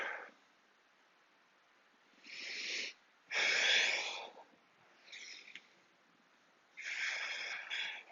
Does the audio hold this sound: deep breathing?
yes